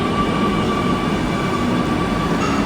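Steady rumbling of a Kochi Metro train in motion toward Aluva, a continuous loud drone with a faint high whine and no pauses.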